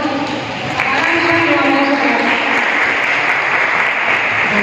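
An audience at a cultural event in Havana's Antiguo Centro Gallego claps for a teacher invited to speak, a steady moderately loud patter of applause with some voices murmuring underneath.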